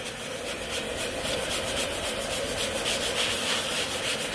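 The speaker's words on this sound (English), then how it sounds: "This is just a 180 grit sanding block that's really worn out." Steady, rhythmic scraping of a worn 180-grit sanding block rubbing over a drywall patch, close and continuous with no voices.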